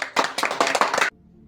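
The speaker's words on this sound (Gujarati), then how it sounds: "તાળી પડો" A short burst of hand clapping during a home guessing game, about a second of quick, close, bright claps followed by quiet.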